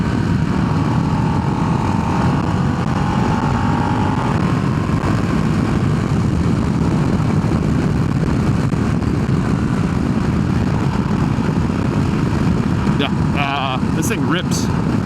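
Harley-Davidson Nightster Special riding uphill in sport mode, its engine droning loud and continuous under steady wind rush, with a rider talking over the noise.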